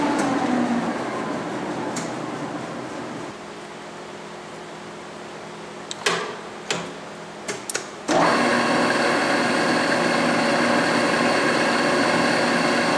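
Tominaga radial arm drill press runs with a steady mechanical hum and whir; a few clunks near the middle, then the motor settles into a louder constant tone at higher speed.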